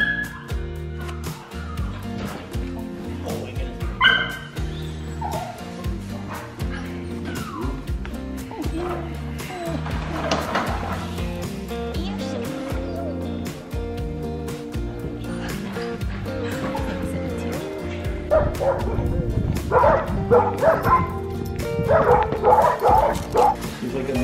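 A golden retriever puppy barks and whimpers in short bursts among several dogs, fairly close, with people talking over it throughout.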